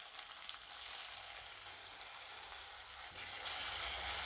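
Tomato stirred into browned onion in a pan for stuffed brinjal, sizzling with a steady, close hiss that grows a little louder toward the end, with no talking.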